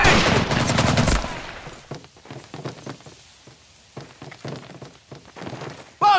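Sustained automatic gunfire and explosions from the World War II shooter Medal of Honor: Pacific Assault, dense and loud for the first second, then scattered sharp shots and distant bursts, ending in a sudden loud burst.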